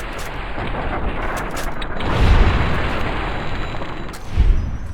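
A dense, noisy barrage of gunfire and booms in the video game Fallout: New Vegas, loud and continuous, with a couple of heavier thuds standing out, and no speech.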